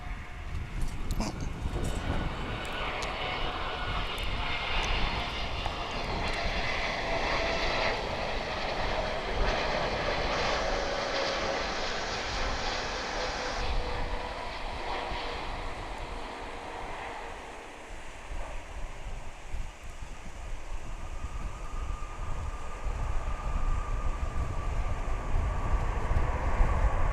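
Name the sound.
CargoLux Boeing 747 landing at DFW airport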